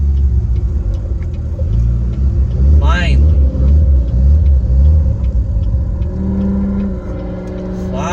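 A Barron County diesel truck accelerates hard on the road nearby with a deep, loud engine rumble that swells and holds. A voice speaks briefly over it.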